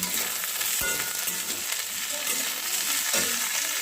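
A cauliflower filling for singara is stirred and mixed with salt and turmeric in a hot pan, giving continuous close sizzling and frying hiss with scraping stir strokes on top.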